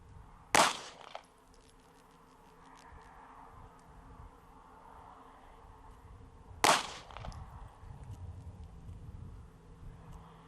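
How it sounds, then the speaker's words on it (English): Two sharp, loud gunshot reports about six seconds apart ring out at an outdoor shooting range, each with a brief echoing tail over a steady low background hum. "please excuse any gunfire you'll be hearing in the background"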